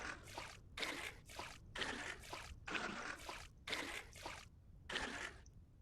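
Water poured in repeated short bursts to fill a container in the survival game Vintage Story, a soft trickling splash that starts and stops about eight times, fairly quiet and with no voices.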